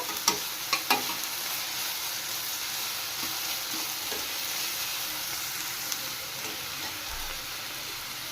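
Onions with ginger garlic paste fry in a pan with a steady, hissing sizzle close by, punctuated early by a few sharp clinks of a utensil stirring against the pan.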